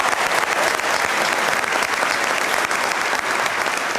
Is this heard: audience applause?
yes